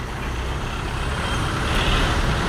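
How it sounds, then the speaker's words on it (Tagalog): City street traffic in Cebu, Philippines at midday: a steady, dense rumble of trucks and buses idling and moving nearby, with a continuous engine drone and no voices. "Traffic situation from Cebu, Philippines."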